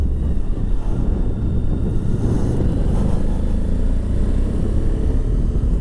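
Adventure motorcycle riding, a continuous low engine drone mixed with heavy wind rush on the microphone, steady and loud with no talk.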